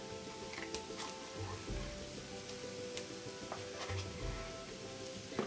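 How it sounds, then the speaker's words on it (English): Garlic and ají amarillo paste sizzle steadily in a pan, a soft continuous frying hiss broken by occasional scrapes and clinks of stirring. "the garlic, and the ají amarillo paste. They sizzling, baby."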